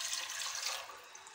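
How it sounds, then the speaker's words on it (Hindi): One litre of water pours into a pot with sugar to make syrup for almond sharbat. A faint, steady, splashing stream runs throughout with no voices. "पानी हम इसके अंदर ऐड कर देते हैं"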